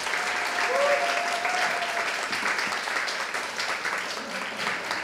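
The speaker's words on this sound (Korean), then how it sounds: "여러분 다시 한번 박수 부탁드리겠습니다" A concert audience gives sustained, even applause for a youth orchestra after a Dvořák Slavonic Dance at an outdoor evening concert, the clapping steady from start to finish.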